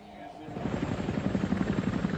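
A flight of four Cobra helicopter gunships taking off from a makeshift airbase near the Kuwaiti border, a loud steady rotor thumping and turbine roar that builds slightly, with a voice speaking over it.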